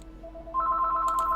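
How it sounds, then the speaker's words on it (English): A telephone rings insistently in the background of a medieval strategy game campaign, a steady electronic trill that swells louder partway through and keeps going without pause. "Oh my goodness, the phone won't stop ringing."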